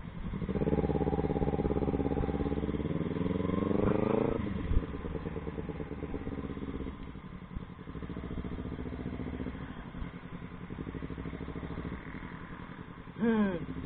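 A motorcycle with an open muffler idles and revs close up on a city street, its loud raspy exhaust running steadily throughout, with one sharp rise in revs partway through.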